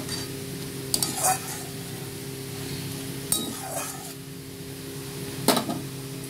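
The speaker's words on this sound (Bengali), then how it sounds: "আর আমি এই যে ভেজে রাখা এই যে ঝিঙের টুকরোগুলো দিয়ে দিলাম।" Fried ridge gourd pieces dropped into a simmering hilsa fish curry in mustard oil, giving three brief clattering stirs against the pan over a steady low sizzle and hum, no voices.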